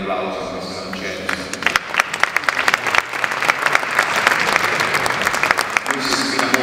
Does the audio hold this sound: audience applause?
yes